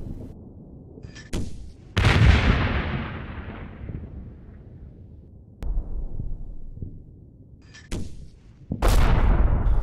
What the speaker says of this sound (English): Now the round should start falling on target.